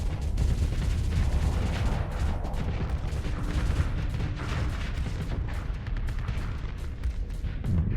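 Dense, continuous barrage of booming weapon fire from blasters in the space game Starsector, loud and layered with rapid overlapping blasts from start to finish.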